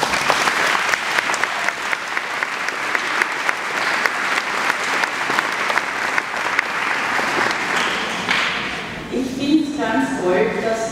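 Warm applause at a school gym opening ceremony, a sustained crowd clapping loudly before fading out, with voices talking as it dies down.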